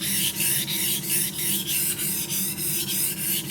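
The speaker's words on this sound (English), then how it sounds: "Now I'm sharpening a different part of the blade." A kitchen knife blade is sharpened with rhythmic, even rasping strokes, about ten in a row, loud and close with no speech.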